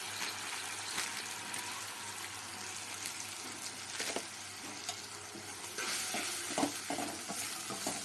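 Lentil dhoka masala sautéed in a pan, with steady sizzling and frying hiss under intermittent stirring and scraping clatter from a spoon throughout.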